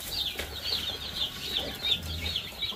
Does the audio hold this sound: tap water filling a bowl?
no